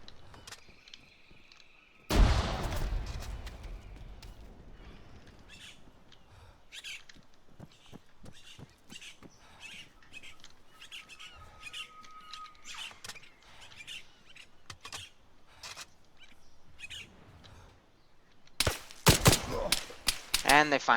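A frag grenade bursts in Arma 3 with a single loud, sharp blast early on. Quieter scattered pops and faint bird calls follow, then a cluster of loud cracks near the end.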